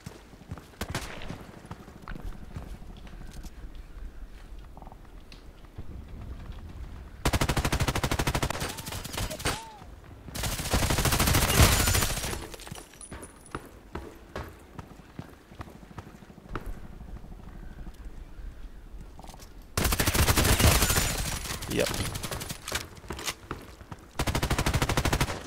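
Gunfire in the online shooter Contract Wars, with several loud rapid automatic bursts separated by quieter stretches of footsteps and game noise.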